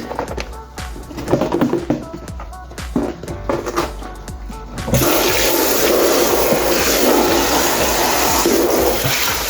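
Cooked cabbage and its water are poured into a strainer: a few clattering knocks, then a loud, steady rush of draining water that carries on to the end.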